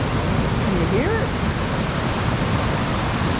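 Rushing water at Picnic Falls on the Snowy River, Mt Buffalo, in Victoria's high country: a loud, steady roar that fills the clip, with a brief faint voice rising above it early on.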